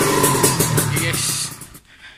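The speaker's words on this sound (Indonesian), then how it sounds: "motor sudah hidup, motor sudah hidup" A motorcycle that seized after hitting 162 km/h by GPS now runs and revs in a workshop, its pulsing engine loud and close under a voice before dropping away near the end.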